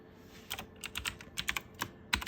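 Keystrokes on a computer keyboard as a Cisco switch password-recovery command is typed, coming in quick irregular bursts of clicks with short pauses between, close and fairly quiet.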